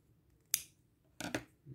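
Scissors snip paper while a beginner makes an easy Valentine's card: one quick crisp cut, then a pair of close snips a moment later, faint in an otherwise quiet room.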